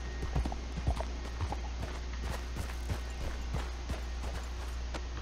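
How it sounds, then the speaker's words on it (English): Horse hooves clip-clop at a walking pace in the video game Red Dead Online, a string of distinct, fairly soft knocks in an uneven rhythm over quiet background ambience. "Get that horse hidden away, Clyde."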